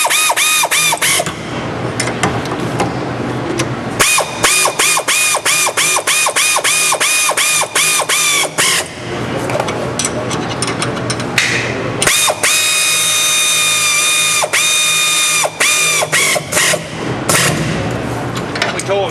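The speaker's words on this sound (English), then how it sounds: "Tighten 3 bolts, tightening the bracket to the spindle using the torque sheet provided with the kit." Ratchet tightening three brake bracket bolts to a spindle during a front drum-to-disc brake conversion: rapid rhythmic ratcheting clicks in loud close bursts, interrupted by pauses and other tool noise.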